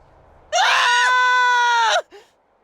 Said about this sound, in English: Screams from the direction of the Hypnos house.